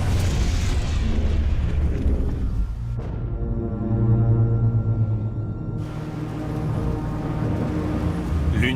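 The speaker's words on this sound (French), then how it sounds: "L'une des torpilles a touché le Neptunia, qui commence à couler." A WWII torpedo strikes the Italian troopship Neptunia, producing a sustained, heavy rumbling blast with a droning, ringing tone running through its middle before the roar returns.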